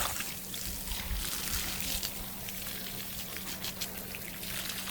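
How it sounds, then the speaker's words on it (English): A garden hose sprays a steady, hissing stream of water over grass seeds in a bucket, continuous and moderately loud with no pauses. "hose down the seeds as much as possible"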